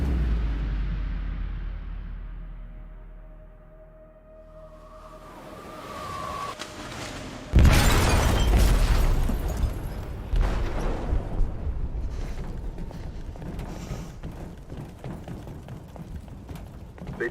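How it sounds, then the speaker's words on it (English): An explosive detonates in a ship's hold in the video game Detroit: Become Human: a sudden loud, deep blast after a quieter stretch, followed by a long rumbling roar with scattered crashing debris and metallic clatter. "They detonated an explosive in the hold."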